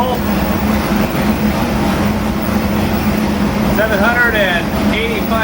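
A Nelson Racing Warrior 632 pump-gas engine roars steadily on a dyno, a loud continuous drone that rises in pitch toward the end of the run.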